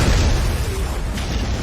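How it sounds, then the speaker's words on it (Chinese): A bus explodes in the web drama Reset, giving one loud, dense boom that fills the short moment with a broad roar and rumbling noise. "公交车又爆炸了。"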